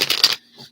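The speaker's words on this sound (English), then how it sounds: "Let me get into some cards here. I'm still shuffling." Tarot cards being shuffled by hand at close range, a brief dense riffle of papery flutter lasting about a third of a second, then a faint softer rustle.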